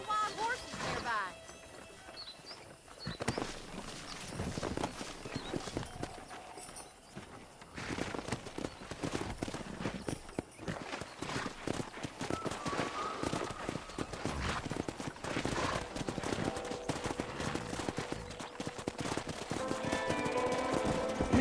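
Horse hooves clip-clopping in a Western open-world video game (Red Dead Redemption) while riding near a pack of wild horses; steady rhythmic hoofbeats run throughout under background game sounds and some voice.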